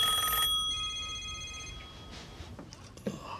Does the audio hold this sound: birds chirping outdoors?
no